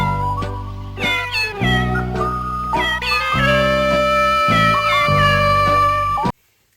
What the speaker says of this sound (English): there's like a Meow cover of the theme that's been going on throughout the movie